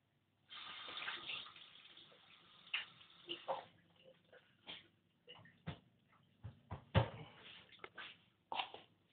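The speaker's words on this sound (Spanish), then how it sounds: "voy a lavar un poquito las manos" Water from a kitchen tap runs while hands are washed at the sink, a steady splashing stream broken by irregular drips, knocks and clatter, near and moderately quiet.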